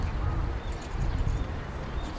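Horse hooves clop on the ground at a 2015 equestrian competition, a soft rhythmic beat in a noisy outdoor setting while an announcer speaks over the arena.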